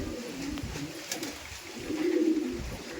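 Pigeons in a large loft of Kalasobuj pigeons, one a big-sized hen, coo steadily and low, a soft continuous rolling coo that swells louder toward the end, with no voices over it.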